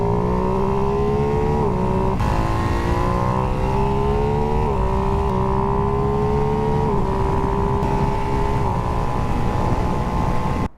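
Ducati Hypermotard 698 single-cylinder motorcycle engine revving hard while riding, loud and close, its pitch climbing and dropping through several gear changes over steady wind rush.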